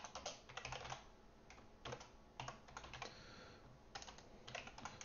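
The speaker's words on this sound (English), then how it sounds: "while I'm typing here" Someone types on a computer keyboard while writing code, producing bursts of clattering keystrokes with brief pauses between them, close and clear, with no talking.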